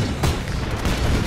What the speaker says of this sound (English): You see what I mean about explosions? There's just so many.